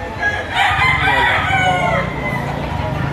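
Roosters crow loudly and close by among clucking chickens for sale at a poultry market in Lipa, one long crow rising and trailing off over a busy background of fowl.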